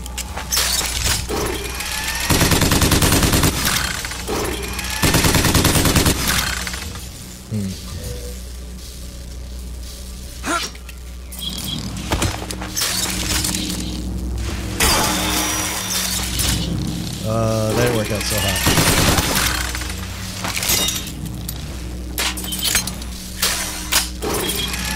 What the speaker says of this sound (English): I'm supposed to be destroying all these crystal things, right?